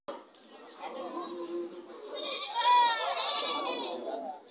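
Several goats bleat repeatedly at a Bangladeshi livestock market ahead of Eid al-Adha, loud and close, their calls overlapping with nearby voices and general market chatter throughout.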